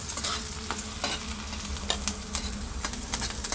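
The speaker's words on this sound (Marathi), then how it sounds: "तवा गरम असल्यामुळं ना पटपट हे परतला जातो" Steady sizzling and crackling of vegetables stir-frying on a hot griddle, with intermittent scraping stir sounds and clattering throughout.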